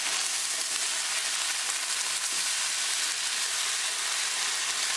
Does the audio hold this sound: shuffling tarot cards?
no